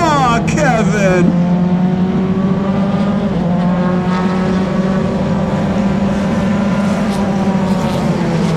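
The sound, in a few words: single seater race cars racing on track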